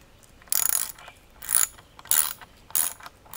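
A hand ratchet clicks in four quick bursts while tightening bolts on a log shelter frame, each burst crisp and close with short pauses between, and no talking.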